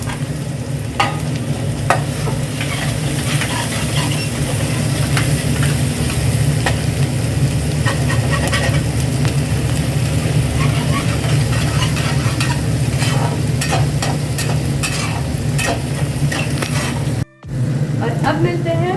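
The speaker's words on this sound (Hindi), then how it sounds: "प्याज डालने के बाद अब फ्लेम को मीडियम कर देंगे, हाई कर देते हैं" Chopped onions frying over a high flame while being stirred, a loud, continuous sizzle with rapid clicking and scraping from the spoon and a brief dropout near the end.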